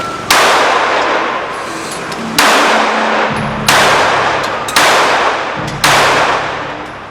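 Five loud gunshots at a shooting club fire one at a time at uneven intervals, each a sharp crack followed by a long ringing echo.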